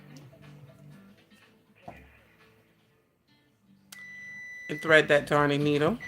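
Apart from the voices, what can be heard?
oven timer beeping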